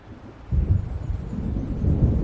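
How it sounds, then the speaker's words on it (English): Low rumbling thunder of an approaching storm in Alan Wake Remastered swells suddenly and rolls on as a deep, sustained roar, fairly loud, with no speech. "It seems there's a storm coming."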